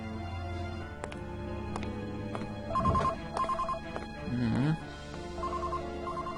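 A telephone rings in the adventure video game Runaway 3, its repeated electronic ring bursts sounding over steady background game music and effects.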